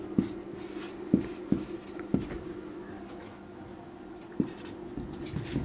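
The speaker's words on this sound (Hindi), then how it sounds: "हम लोग लिखेंगे" A pen scratches and taps on paper while a math solution about a circle's circumference and area is written out, close, soft strokes with a few sharper clicks and no speech.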